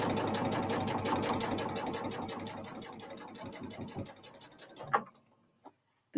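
Sewing machine chain piecing fabric pieces together, a steady rapid stitching rhythm running for about five seconds before stopping, followed by a few faint clicks.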